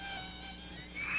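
A mosquito, the kind that carries dengue, whines steadily in a high, thin continuous buzz, close and constant, with no voices over it.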